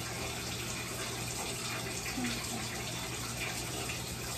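Tap water runs steadily to rinse freshly washed hair, a constant close splashing hiss with no talking.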